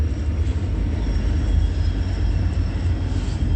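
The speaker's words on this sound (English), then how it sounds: "and that is Union Pacific." A Union Pacific train passes with a loud, steady low rumble that holds constant and close, with no one speaking.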